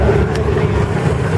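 A vintage Railton motor car with a straight-eight engine runs at a hill climb, giving a loud, close, continuous engine rumble for a brief moment.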